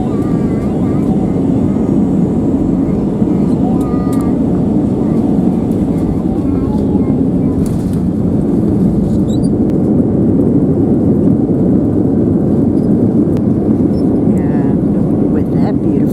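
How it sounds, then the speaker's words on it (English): A Lufthansa Airbus A321 on landing approach with wheels down, heard from inside the cabin as a loud, steady low engine and airflow roar that fills the whole stretch. "We have wheels down and making the approach."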